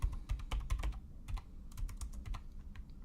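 Rapid typing on a computer keyboard while entering C program code, a close, steady patter of key clicks with a burst of quicker strokes early on, no talking.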